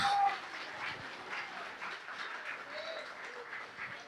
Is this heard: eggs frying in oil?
no